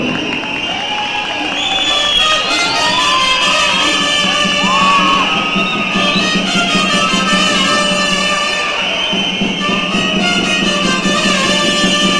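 Crowd at the Cholita Gironense 2016 pageant in Girón cheers and claps for a folk dance troupe from El Chorro community, with shouts and music-like tonal layers running steadily throughout at close, loud level.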